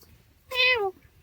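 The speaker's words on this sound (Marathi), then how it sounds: "शेतामध्ये माझी तर मांजर येऊन बसले, तुम्हाला दाखवतो" A single clear meow from a cat sitting in a farm field, short and close, rising then falling, with quiet surroundings before and after.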